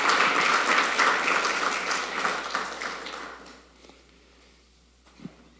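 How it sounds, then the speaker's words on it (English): Audience applause at a university endowment lecture, a dense round of clapping that fades over about four seconds, followed by a lone soft tap near the end. "I'd really like for us to give her a round of applause"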